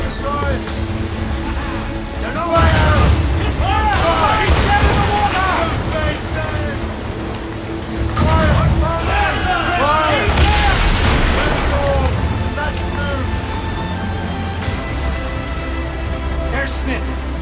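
Ship cannons booming in an Assassin's Creed Rogue naval battle, heavy blasts in two clustered volleys over crashing waves and wind, with shouting voices and swelling music layered on top.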